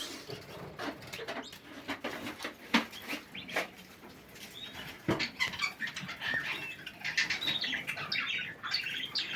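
Budgerigar chicks in an aviary chirp and squawk in a busy, overlapping chatter, with scattered wing flaps and cage knocks throughout at moderate loudness.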